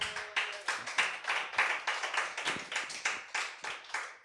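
A church congregation claps together to acclaim the Lord, a steady, even rhythm of many hands close by with no voices over it.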